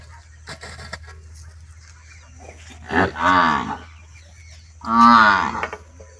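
Buffaloes on a farm let out two loud, drawn-out moos a couple of seconds apart, each a deep harmonic bellow, over a steady low hum with faint scattered knocks in between.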